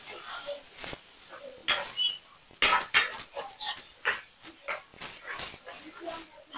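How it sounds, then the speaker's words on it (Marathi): Broken eggs stir-fried in oil in a pan over lowered gas heat for egg bhurji, with repeated scraping and clattering of a spatula against the pan in an uneven rhythm, close up. "आपले जे अंडे आता आपण फोडून टाकलेले आहेत त्याला छान आपल्याला परतून घ्यायचं आहे"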